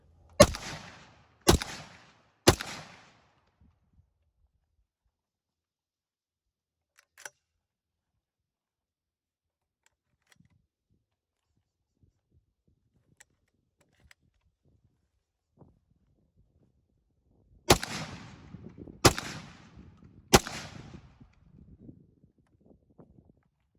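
A Stoeger M3000 semi-automatic shotgun fires 3-inch Winchester 2-shot loads outdoors. Three loud, sharp blasts come close together, then a long near-silence with small clicks, then three more booming shots in quick succession with rustling afterward.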